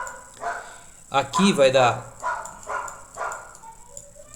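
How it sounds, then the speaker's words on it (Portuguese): A neighbour's dog barks repeatedly at moderate distance, several sharp yapping bursts mixed with someone speaking Portuguese over them. "O cachorro tá brabo aqui"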